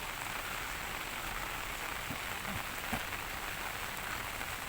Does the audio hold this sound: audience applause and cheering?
no